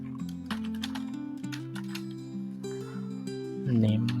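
Rapid keystroke clicks from a computer keyboard while code is typed, tapping in quick, uneven bursts under a steady droning tonal background.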